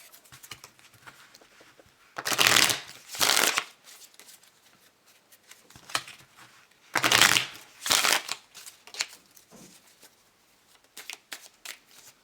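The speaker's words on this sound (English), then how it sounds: "We're going to shuffle our clarifying cards too." Tarot clarifying cards being shuffled by hand in two bursts of rapid riffling, close and crisp, with quiet handling sounds between and no speech.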